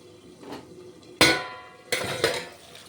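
A lid clanks down onto a pan of cooking patol with a sharp metallic clatter, followed by a second rattling clank and a brief ringing scrape, close by in a quiet kitchen.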